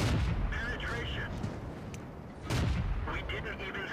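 Tank cannon fire in World of Tanks, two heavy booming shots with rumbling decay about two seconds apart, loud and close amid ongoing battle noise.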